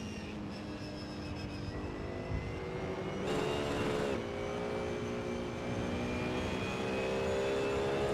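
Racing video game engine note of a BMW Z4, a steady droning hum with faint whining harmonics that swells slightly around midway, heard at moderate level with no voices.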